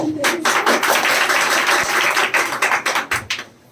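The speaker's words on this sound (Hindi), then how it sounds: "ताली भी बीमार हो गई।" Students in a spoken English class clap in a fast rhythmic patter that grows sparser and fades near the end, with some voices in the background.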